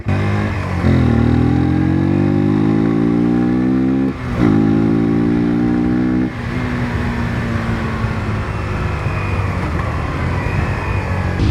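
A Suzuki GSX-R 125 motorcycle's small single-cylinder engine revs up loudly and steadily while riding, with a short dip as it shifts, then keeps droning at a constant pitch, close and alone.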